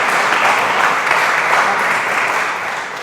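Loud, sustained audience applause fills a hall at an election debate at St Joseph's College in Croydon, a dense steady wash of clapping that eases slightly toward the end.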